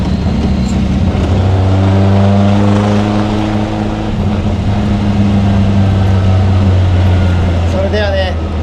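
A Fiat 1100B Sport Barchetta drives on country roads near Colli, its small engine humming steadily with rising and falling pitch as it builds speed, close and loud under a voice.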